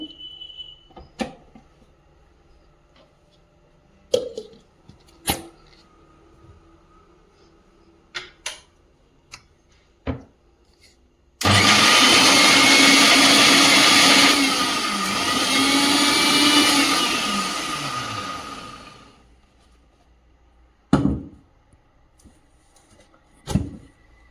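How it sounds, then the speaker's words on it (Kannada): A kitchen mixer grinder jar grinding ginger, garlic and green chillies with a little water: a loud, steady whir lasting about eight seconds, framed by scattered clicks and taps before and after. "ಹಸೆ ಶುಂಠಿ, ಬೆಳ್ಳುಳ್ಳಿ, ಹಸಿಮೆಣಸಿನ್ಕಾಯಿ ಎಲ್ಲವನ್ನು ಮಿಕ್ಸಿ ಜಾರಿಗೆ ಹಾಕಿ ಸಣ್ಣಕ್ಕೆ ರುಬ್ಕೊಳ್ಬೇಕಾಗುತ್ತೆ."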